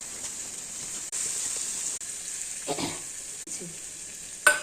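Potatoes frying in a pan with ground cumin, coriander and chilli paste for an egg and potato curry, a steady close sizzle with a few scraping stirs of a spoon.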